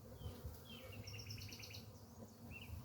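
Honeybees from a swarm trap colony buzzing steadily at close range, a continuous low hum with a few faint high chirps layered over it.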